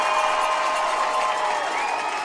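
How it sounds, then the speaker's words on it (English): A football crowd cheers loudly in Hamilton at a Friday night high school game, a sustained roar of massed voices that stays steady and close without pause. "Crowd going crazy here in Hamilton."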